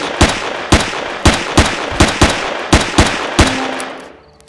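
Gunfire from a gun in the space survival game Empyrion, about eight loud, sharp shots in a fairly even rhythm over a constant background hum, ending with a brief tone and fading.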